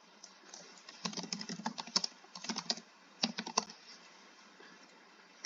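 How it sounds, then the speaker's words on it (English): Quick bursts of typing on a computer keyboard, close and clear, with a short pause in the middle before another flurry of keystrokes. "I'm typing to search digital download instead of typing it here"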